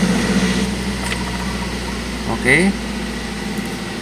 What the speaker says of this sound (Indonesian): mesin sudah menyala, RPM masih di atas 1000, itu normal ya, karena mesin dingin